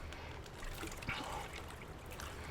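Water trickling steadily into a water-gathering device in the survival game Empyrion, a soft continuous dribble with faint splashes, alone at moderate level.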